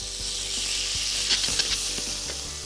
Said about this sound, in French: Il ne me reste plus qu'à réchauffer mes légumes dans un petit peu de beurre